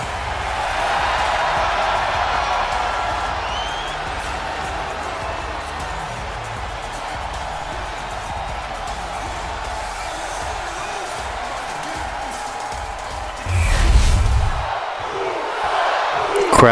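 Arena crowd cheering for Jey Uso in the WWE 2K25 wrestling game, a steady wash of loud crowd noise with a brief louder swell near the end.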